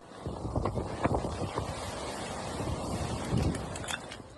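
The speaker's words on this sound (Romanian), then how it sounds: "rafalele puternice de vânt au spart mai multe ferestre și au smuls copaci și acoperișuri" Strong gusts of wind roar and buffet across the microphone outdoors in southern England, a continuous rushing noise with sharper thumping blasts and rattling bits.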